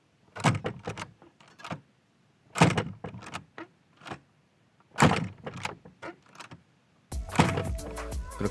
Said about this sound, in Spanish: otro sonido que podemos utilizar es el de esta puerta.